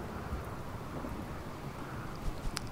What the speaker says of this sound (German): jetzt regnet es aber